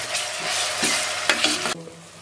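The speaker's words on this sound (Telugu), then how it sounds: "ఇది 2 నిమిషాలు వేగాలి కొద్ది దోరగా." Ginger garlic paste frying in a hot pan for a spicy cashew mutton curry, a close, bright hiss of sizzling oil with a few stirring scrapes, cutting off abruptly near the end.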